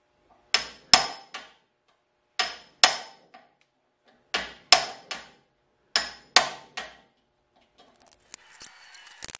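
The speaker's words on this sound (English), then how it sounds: "Just take a hammer and when you bang it" Sharp metallic hammer blows on a manual impact driver loosening stripped screws on a Datsun 280Z land in pairs and threes with pauses between, each ringing briefly, followed by faint clicking and rattling at the end.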